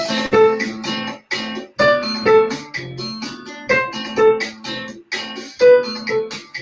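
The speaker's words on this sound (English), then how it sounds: "The original tune of this piece, which I've got on the backing track, sounds like this." A backing track plays the original tune of a piece, with a melody over chords and a bass line moving in a steady, phrase-by-phrase rhythm. It is heard alone at moderate volume, with no talking.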